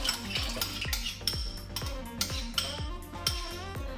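A utensil stirring yeast into milk in a bowl, quick rhythmic clinks and scrapes against the sides, close and fairly soft, repeating steadily.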